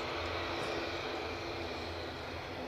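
An ATR aircraft engine drones steadily at Edinburgh Airport, a continuous broad roar with an even, unbroken level and no voices.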